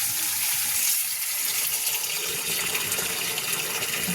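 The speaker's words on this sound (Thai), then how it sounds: "ผสมน้ำเข้าไปอีก" Water poured in and mixed into a batch: a steady, close gushing and splashing stream that runs without a break, loud and alone with no voices.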